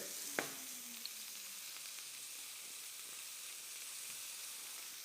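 Fish frying skin-side down in foaming butter in a pan: a faint, steady hiss and sizzle with a couple of small clicks near the start, and no voices.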